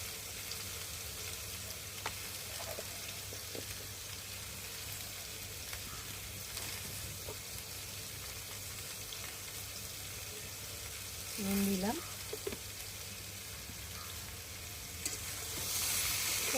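Vegetable curry cooking in a pan with a little oil and turmeric, giving a faint continuous sizzle with occasional soft stirring scrapes; a brief tonal knock or clink near the end, no voices.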